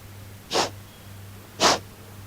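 Two forceful nasal exhalations from a person in a breathing exercise, each a short sharp breathy burst about a second apart, close and fairly loud over a low steady hum, with no talking.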